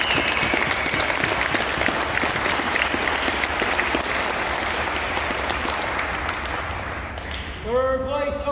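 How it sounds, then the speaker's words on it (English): Sustained audience applause for JROTC drill teams at a Navy and Marine JROTC drill meet, dense and steady throughout before fading, with a voice beginning to speak over the last second. "I just want to give a round of applause to them."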